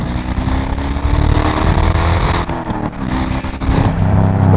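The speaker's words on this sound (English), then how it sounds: "An LS1 V8 engine sends 350 horsepower at the crank to the back wheels." LS1 V8 engine of a 350-horsepower rear-wheel-drive American sports car, a loud, full-bodied rumble held steady with a brief dip midway before swelling back up, heard close and alone.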